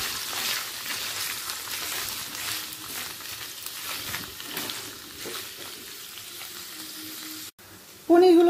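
Small diced paneer cubes fry lightly in a pan, a steady close sizzle with stirring scrapes, briefly dropping out before a short louder burst of sound at the end.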